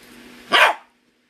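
A Shiba Inu gives a single sharp, loud bark up close, following a low rumble and then silence.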